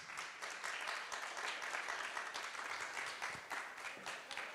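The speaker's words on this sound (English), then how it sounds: "round of applause, guys" Fashion event audience giving a round of applause, an even, sustained clapping from a crowd of many hands, fairly distant and quiet, with no speech over it.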